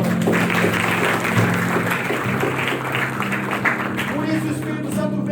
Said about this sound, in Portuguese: Vamos aplaudir a Deus pelo nosso irmão.